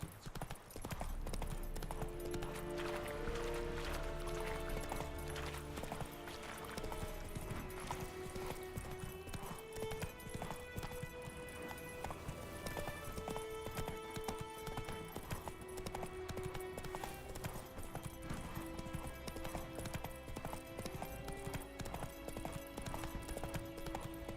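Roach the horse gallops in The Witcher 3 video game, with quick rhythmic hoofbeats clip-clopping steadily and close for the whole stretch, along with a brief whinny and a layered game soundscape behind.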